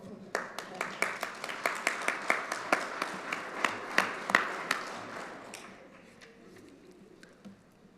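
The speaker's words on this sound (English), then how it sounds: "I think the cross-country team ought to give him a round of applause." A small group at a school district governing board meeting claps, sparse distinct hand claps in a loose rhythm for about five seconds before thinning out and fading to quiet room tone, with faint voices underneath.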